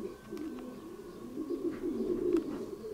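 Pigeons cooing in a freshly cleaned pigeon loft, a steady low murmuring coo from several birds, close by, with faint rustles and no talking.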